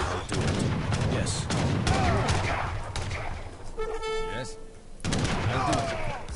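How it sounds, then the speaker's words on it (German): Soldiers fire volleys in the video game Age of Empires III, dense crackling gunfire in repeated bursts, with a horn-like tone partway through and a voice speaking over the battle. "Die schießen uns hier direkt wieder zusammen"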